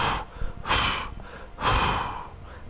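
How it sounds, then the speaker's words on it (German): A person exhales forcefully during a home fitness workout. Two strong breaths out, each lasting about half a second, come close together with quieter breathing between them. No one speaks. "Wir atmen aus."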